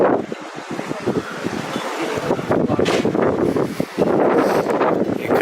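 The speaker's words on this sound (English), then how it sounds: "Might be kind of hard to hear in the wind." Strong wind gusts roar across the microphone outdoors on a lakeside lodge terrace, a steady rushing buffet that rises louder in the second half, with no clear talk.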